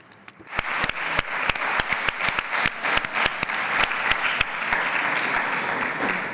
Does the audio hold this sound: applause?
yes